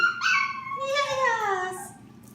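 A puppy whimpers in a long, drawn-out whine that slides downward in pitch, close and fairly loud over a soft low background, during dog obedience training.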